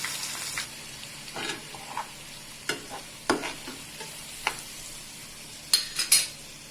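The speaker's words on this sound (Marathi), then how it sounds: "मोहरी तडतडल्यावर करीपत्ता लसूण आणि मिरचीचा हा वाटून घेतलेला पेटा" Curry leaves, garlic and ground chili paste are added to hot oil in a pan with crackling mustard seeds. The oil gives a soft sizzle, broken by scattered sharp pops and spoon scrapes from stirring.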